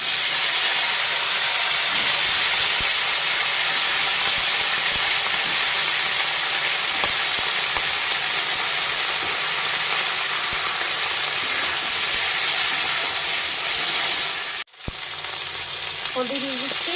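Eggplant pieces go into a hot pan of oil for a Bengali fish and eggplant curry, giving a loud, steady sizzle that runs continuously before a brief cutout and resumes more quietly.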